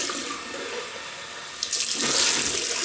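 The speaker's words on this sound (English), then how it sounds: "Right, I'll just rinse off." Tap water runs steadily into a sink while rinsing off after shaving, a continuous close hiss that grows brighter and louder midway as the flow shifts.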